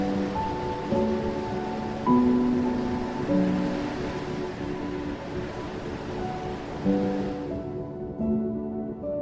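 A continuous wash of water like breaking waves fills the background, under sustained, layered music notes, then the water noise cuts off abruptly near the end while the music lingers.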